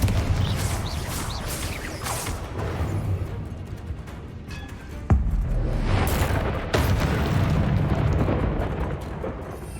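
Confringo blasting spell explosions in Hogwarts Legacy, heavy booming blasts over continuous rumbling game action, with sharp impacts near the middle and again later, loud and dense with no speech.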